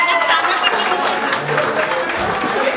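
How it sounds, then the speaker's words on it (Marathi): An audience claps steadily to welcome a guest at a Marathi social gathering, a dense, continuous wash of hand claps filling the room for the whole stretch. "टाळ्या वाजवून त्यांचं स्वागत करूया"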